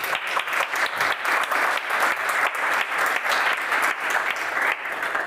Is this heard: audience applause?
yes